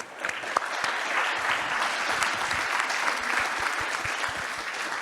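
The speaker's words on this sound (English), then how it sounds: "Another round of applause." Dense, steady audience applause fills a plenary session at a Barcelona science conference, even and sustained for several seconds.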